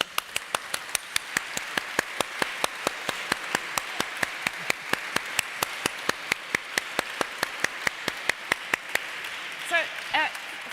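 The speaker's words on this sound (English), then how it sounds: "We can clap them now" A sharp, regular series of loud claps rings out in a large hall at a conference in Palazzo Vecchio's Salone dei Cinquecento, sounding like a single close pair of hands over faint crowd clapping, with a voice briefly speaking near the end.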